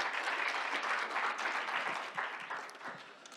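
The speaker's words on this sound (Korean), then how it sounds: "큰 박수로 김병현 교수님의 발표를 환영해 주시기 바랍니다" Steady audience applause fills a conference hall at a Korean unification conference, welcoming a professor's presentation; dense, even clapping holds throughout and tapers slightly toward the end.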